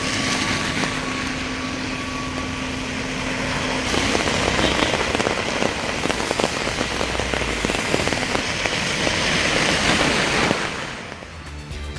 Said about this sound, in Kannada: ಸಂಜೆ ಆಗ್ತಾ ಇದ್ದಂತೆ ಹಲವೆಡೆ ಧಾರಾಕಾರ ಮಳೆ ಸುರಿದಿದೆ